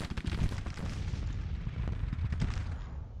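Repeated booms of Civil War-era artillery fire in the strategy game Grand Tactician, a dense rumbling barrage of overlapping blasts that holds steady for a few seconds with no voices.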